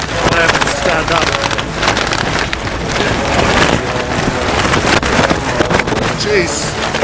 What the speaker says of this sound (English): This is actually lighter than the last gust, which actually had me pinned completely to the floor.